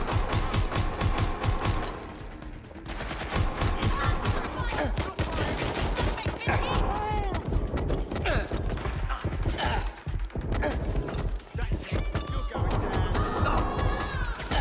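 Gunfire in the action game Watch Dogs Legion, a near-constant chatter of automatic weapon bursts and mechanical clatter, loud and dense throughout a chaotic shootout.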